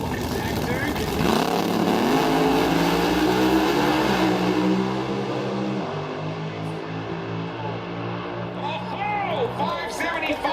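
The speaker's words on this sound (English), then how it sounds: "Always on the gas is Sassoni" A door slammer drag race car accelerates hard down the strip with a loud, rising engine roar that shifts pitch partway through, while a commentator talks over it.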